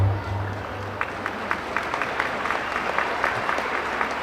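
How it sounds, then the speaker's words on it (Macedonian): A festival audience at an international children's festival in Turkey claps for a Lithuanian children's dance group, a steady, fairly distant wash of many hands clapping with light crowd murmur. "Тие добија голем аплауз за нивниот настап во кој сите уживавме."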